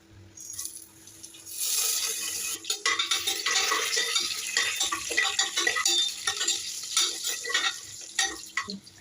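Masala spices frying in oil in a pan, with a close, busy mix of spoon scraping and clinking against the pan over a soft sizzle.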